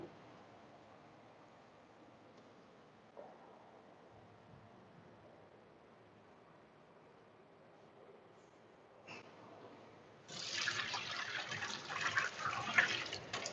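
Water sloshes and runs as ramen noodles are rinsed to wash off starch, faint and soft at first, then a louder, gushing stream of running water near the end.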